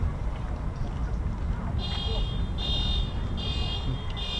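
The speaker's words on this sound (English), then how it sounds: "Even the nozzles scaring car alarms." A car alarm, set off by the roar of USAF F-15 and F-35 jets at RAF Lakenheath, sounds in repeated pulsing electronic bursts over a loud, continuous rumble of jet noise, with people talking nearby.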